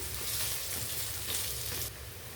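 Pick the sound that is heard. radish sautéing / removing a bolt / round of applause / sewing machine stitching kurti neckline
radish sautéing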